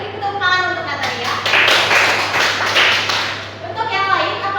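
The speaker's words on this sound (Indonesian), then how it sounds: "Beri tepuk tangan untuk Natalia." Students in a classroom give a round of applause, a burst of many hands clapping that swells and fades over a few seconds. Someone speaks before and after the clapping.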